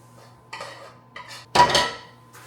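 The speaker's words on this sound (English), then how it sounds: "add it to your Rice Krispie chocolate chip graham cracker mixture" Melted marshmallows being stirred into a Rice Krispie, chocolate chip and graham cracker mixture in a bowl, giving scattered scraping and clinking utensil-on-dish knocks with one louder burst of stirring near the middle, no talk.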